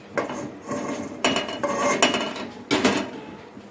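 A kadai set down on a stove, heard as several close metallic clanks and scrapes of cookware in uneven bursts, with no voices.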